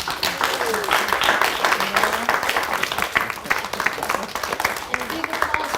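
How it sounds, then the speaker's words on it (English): Steady, dense applause from an audience at a healthy longevity conference round table, thanking the lecturers. It holds at an even level throughout, with voices talking over the clapping. "I ask you for a big applause for our lecturers."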